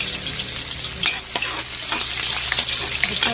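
Garlic, onion and ginger sizzle steadily in a hot oiled pan, with occasional scraping stir strokes over the continuous frying hiss.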